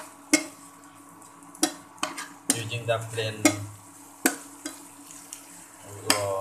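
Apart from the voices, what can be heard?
oyster mushroom slices frying in refined oil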